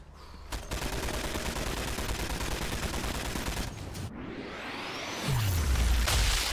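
Heavy machine guns fire in Sniper Elite 4 as a loud, dense, continuous volley of rapid shots, cutting off abruptly, followed by a whoosh and a deep low boom near the end.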